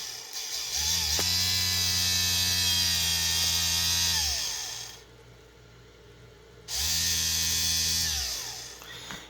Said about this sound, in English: you can hear the powerful spinning of my rebuilt motor